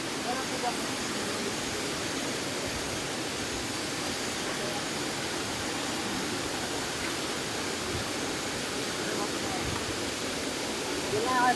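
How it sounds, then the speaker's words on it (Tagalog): Kilangin Falls on the Laguna side of Banahaw pours with a constant broadband rush of falling water, steady and moderately loud with no pauses. "Puntaan ko lang yung waterfalls dito para makita nyo rin"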